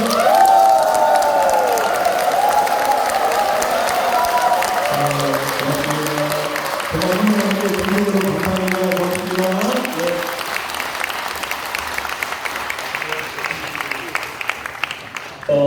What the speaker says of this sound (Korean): 이 자리가 떠나갈 정도로 커다란 박수 함성을 부탁드리면 어떨까요?